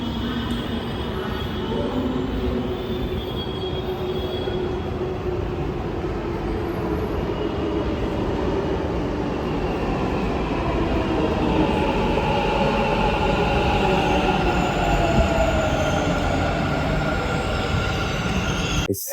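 Metro train at Majestic station in Bengaluru, a loud continuous rumble of rolling cars with wheel squeal, steady throughout with no speech.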